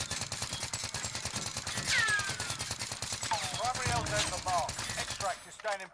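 A Milano submachine gun in Warzone fires in rapid, steady bursts, a fast regular rattle of shots with short whooshing and whining game effects over it, while a person talks throughout.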